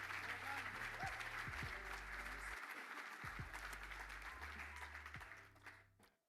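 Audience applause at an innovation expo, a dense, sustained wash of clapping that fills the room and holds steady before tapering off toward the end, with low rhythmic thumps underneath.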